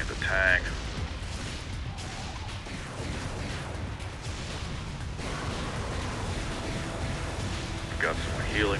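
Tank cannon fire and blasts in an Unreal Tournament 3 warfare match, a dense continuous roar of booming explosions and gunfire with a few sharper bursts, loud throughout with game sounds layered under voices.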